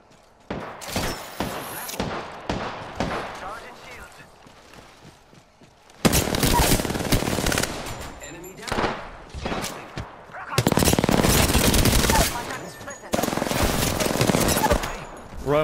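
Apex Legends firefight with rapid automatic weapon bursts, loud and close, coming in long sustained volleys separated by brief pauses, while players call out under the shooting.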